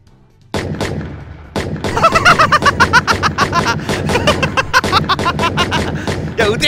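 Rapid bursts of gunfire from the video game Dyschronia: Chronos Alternate crackle in quick, irregular volleys, loud and close, mixed with game sounds and overlapping voices.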